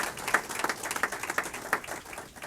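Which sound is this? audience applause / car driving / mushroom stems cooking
audience applause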